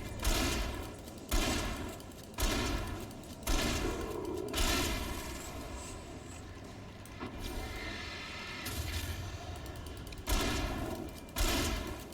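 Gunfire in the Alan Wake video game, heavy booming shots repeating at a steady pace about once a second, loud and close over a dense rumbling background.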